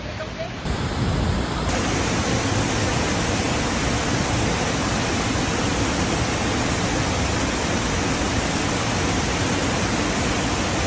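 Sayahan Falls pours down with a steady, dense roar of rushing water, loud and unbroken throughout.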